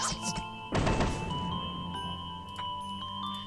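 An Airstrike attack in the turn-based game Epic Battle Fantasy 3 lands on a squid enemy with a loud, sudden thumping crash. Ringing synthetic tones and a few light ticks follow over steady game music.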